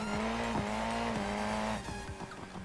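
Car driving in BeamNG.drive with a steady engine drone and sharp tire squeals, loud and close throughout, with a brief slower rumble near the end; no talk.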